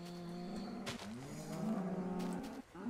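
Several cows in the video game Minecraft moo in overlapping, drawn-out calls, one after another with no break over three seconds, fairly close and loud, with no talk over them.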